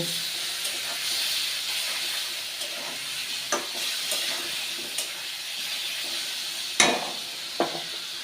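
Chanda fish curry masala with chilli powder cooks down in a pan after water goes in, making a steady, close hiss of steam and sizzle broken by a few sharp spatters.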